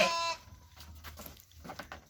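Goat bleating at an Indonesian goat farm: one loud, harmonic bleat at the very start, followed by quieter farmyard rustling and faint animal noises.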